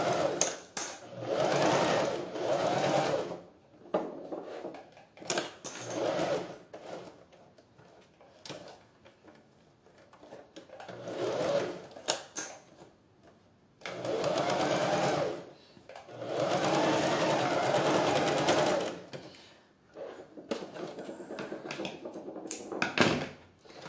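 A sewing machine stitches a synthetic toiletry bag in several short bursts of brisk whirring, separated by quiet pauses with small clicks and handling sounds as the fabric is turned.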